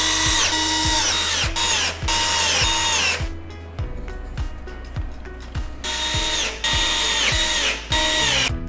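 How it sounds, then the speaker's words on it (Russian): A power screwdriver drives self-tapping screws into metal brackets on a wooden bed frame, whirring in loud bursts with a short quiet pause in the middle and rhythmic clicking during the strokes. "Уголок крепится вровень с торцом царги на саморезы из комплекта фурнитуры."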